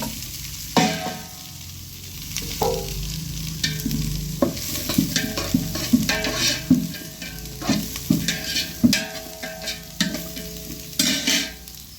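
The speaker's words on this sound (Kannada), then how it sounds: "ಮೆಂತ್ಯ ಸೊಪ್ಪು ಚೆನ್ನಾಗಿ ಫ್ರೈ ಮಾಡ್ಕೊಳ್ಳಿ" Fenugreek leaves and chopped onion frying in a pan for spicy pulao, a steady close sizzle broken by repeated scraping and clinking stirs of a utensil against the pan, with no voices.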